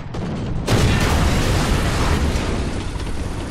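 A tank cannon in War Thunder fires a single heavy, close blast that swells into a sustained rumbling roar, loud and unbroken to the end.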